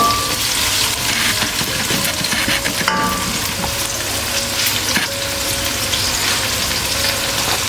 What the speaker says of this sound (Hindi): अब हम इसको घी में डाल रहे हैं जी, लाइट ब्राउन करेंगे जी